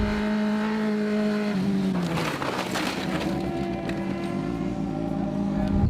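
A 12-horsepower Italian motorcycle engine revs with a steady harmonic drone that dips, surges and settles again, loud and close with no talking over it.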